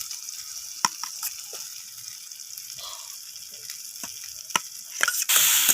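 Fried potatoes stirred into sizzling masala in a pan for a bhola fish curry, a steady soft frying hiss with occasional sharp clinks of a spatula against the pan.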